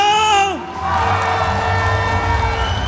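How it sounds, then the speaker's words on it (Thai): A crowd cheers for two Muay Thai fighters after a bout between a Lao and a Thai boxer. A brief announcer's voice gives way to a loud, sustained roar of shouting and whooping. "ขอเสียงเชียร์นักชกทั้งคู่เลยครับ"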